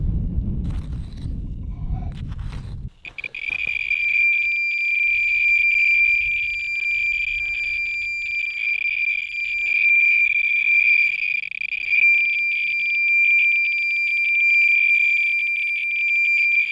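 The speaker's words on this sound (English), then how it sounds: "Hear my Radiacode going nuts." A brief rumble of handling noise, then a Radiacode radiation detector sounds a shrill, steady high-pitched tone with rapid pulsing beeps near a piece of uranium ore, continuing without pause.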